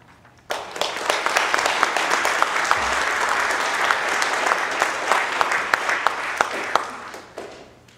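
Congregation in an Episcopal church applauding after a youth mission trip reflection, a steady dense wash of many hands clapping that starts abruptly, holds for about seven seconds with sharp individual claps standing out, then fades.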